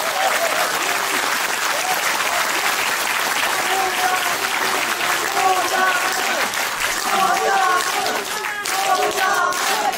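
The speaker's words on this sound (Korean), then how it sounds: "다시 한번 큰 박수 격려해 주십시오" An indoor audience at a book concert applauds steadily for the full stretch, a dense, even roar of many clapping hands with some crowd murmur mixed in.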